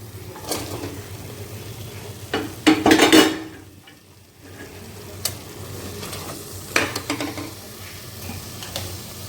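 Double beans hit a hot pan and are stirred and fried for a vegetable masala biryani: a steady sizzle with louder scraping bursts of stirring around the third and seventh seconds, no talking.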